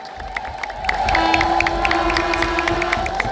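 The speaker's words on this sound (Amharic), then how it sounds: "በጭብጨባ ሞቅ ያለ ጭብጨባ።" Crowd at a church inauguration ceremony in Merkato, Addis Ababa, breaks into warm cheering and clapping with whoops and shouts, steady and lively throughout, backed by a sustained tonal hum.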